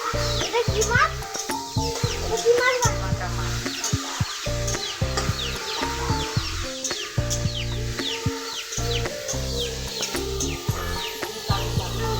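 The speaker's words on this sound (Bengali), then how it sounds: "এখানে মাছের ঝাল করবার জন্য মাছ ভাজা হচ্ছে" Fish sizzles as it fries in a pan for a home-cooked fish curry, a low broadband crackle running beneath steady talk and a voice, with occasional clucking chickens nearby.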